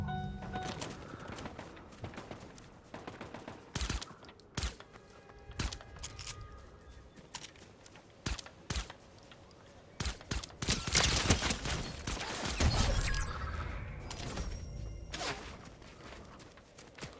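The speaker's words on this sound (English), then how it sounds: "are they shooting at me?" Gunfire bursts in the video game Fortnite, sharp shots scattered irregularly across the stretch, some close and loud, others fainter, mixed with game sounds and footsteps.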